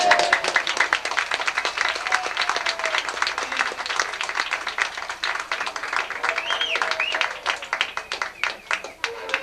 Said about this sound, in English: Let's give this lady a round of applause.